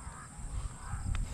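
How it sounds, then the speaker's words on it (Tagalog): Crows cawing above a corn field, faint and somewhat distant, with a steady low outdoor rumble underneath and one brief sharper call standing out near the end. "Yan, pagkakapal po ng uwak"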